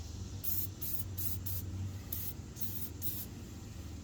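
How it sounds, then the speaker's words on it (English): Several short bursts of aerosol penetrating fluid spraying onto a Ford F150 tie rod, close up, in quick pulses followed by two longer sprays, over a quiet low hum. "I'm also going to spray a little bit on the top of the tie rod right here"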